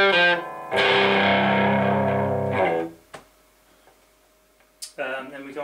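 Electric guitar through a Marshall AVT 100 amp on its OD1 overdrive channel: a loud, distorted sustained chord ringing for about two seconds after a short opening stab, then a quiet pause, a faint tick and a new chord.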